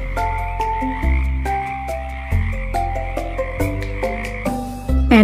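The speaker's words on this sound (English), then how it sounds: "Oh, it's a frog." Frog croaks sound in a loud, close series of repeated calls with a few pauses between groups, no talk over them.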